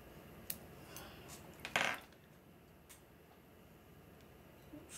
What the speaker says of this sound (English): Take our scissors, cut the rest of this.